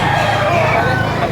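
A hen clucks and calls loudly up close, continuous through the short moment, with no talk.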